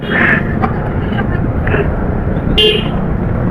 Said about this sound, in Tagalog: Eto, busina ng busina.